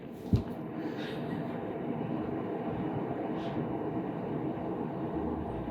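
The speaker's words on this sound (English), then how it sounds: "here comes a train" Continuous low rumble of a passing train, steady and fairly distant, with a brief thump at the start and no voices.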